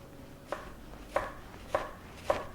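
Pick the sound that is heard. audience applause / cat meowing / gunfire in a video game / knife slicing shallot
knife slicing shallot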